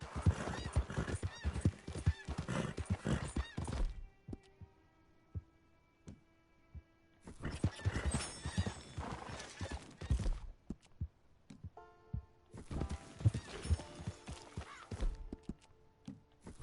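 A horse in the Red Dead Redemption 2 game gives bursts of hooves clip-clopping with neighs, in three busy stretches separated by quieter gaps with sustained tones.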